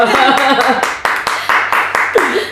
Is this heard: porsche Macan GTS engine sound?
no